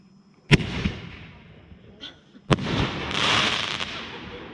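Fireworks explode outdoors, two sharp loud bangs about two seconds apart, the second followed by a crackling, fizzing shower of sparks that trails off, with a faint pop in between.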